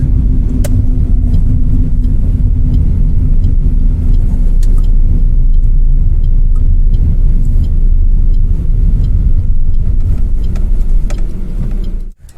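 A car's engine rumbles loud and close while it is parked near Tanot Mata temple outside Jaisalmer, a steady low drone held throughout before cutting off abruptly at the end.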